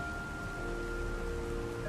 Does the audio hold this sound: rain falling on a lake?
yes